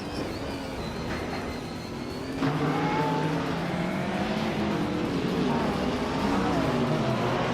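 DTM race cars roar around the Anneau-du-Rhin circuit in a racing video game, engines droning loudly and shifting pitch as they accelerate, with a sharp rise in intensity partway through as the cars close up.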